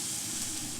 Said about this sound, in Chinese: 放入山坑螺之後猛火爆炒